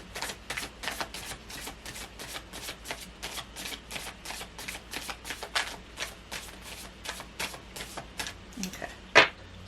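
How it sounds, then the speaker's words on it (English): Cards are riffled and shuffled in quick, crisp bursts, a rapid repeating flutter of snapping card edges, close and fairly quiet. "I'm going to do 3 shuffles."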